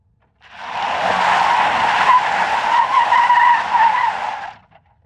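Tires of a Mercedes G-Wagon screeching as they skid on dry pavement, a loud, sustained squeal lasting about four seconds before cutting off, with no talking.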